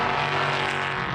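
Le Mans Cup-style prototype race car with a Toyota-based twin turbo V6 roars past at speed, a brief, loud, dense engine blast close by with no talk.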